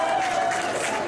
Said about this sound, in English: Clap if you're broke.